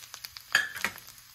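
Mustard seeds, cumin, urad dal and chana dal tempering in hot oil give a soft, close sizzle with scattered crackles and pops, plus a brief stirring scrape.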